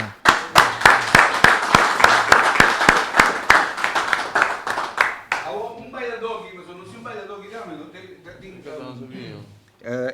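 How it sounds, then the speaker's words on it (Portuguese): Applause at a press conference for a Curaçao kadans and zouk revival: loud, quick clapping from a crowd for about five seconds, then it stops and someone speaks alone. "pedir forte aplauso para a iniciativa de parte minerária"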